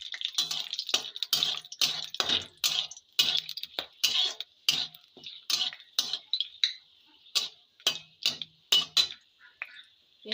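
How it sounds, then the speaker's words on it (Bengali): A utensil stirs hot oil with cinnamon sticks and cloves in a pan, making a run of sharp close clicks and taps against the metal over a light sizzle. "তো তেলটা এবার নেড়ে দেবো আমি"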